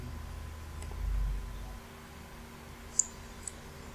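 A computer mouse gives a couple of sharp, faint clicks to finish a Visual Studio Code installation, heard alone over a low background hum.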